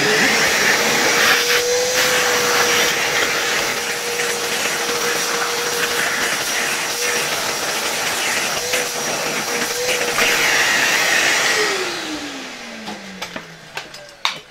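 A vacuum cleaner drawing residual dust off chandelier parts in a workshop, a loud steady whine that runs for many seconds before the motor winds down and falls away near the end.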